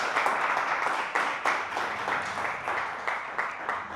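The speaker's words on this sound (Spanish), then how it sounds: "Dale un aplauso a Jesús" Applause from a church congregation during a Spanish-language worship service, a moderately loud wash of clapping with several sharper bursts of hands, continuing without speech.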